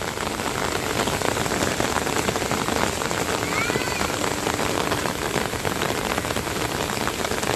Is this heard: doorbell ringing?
no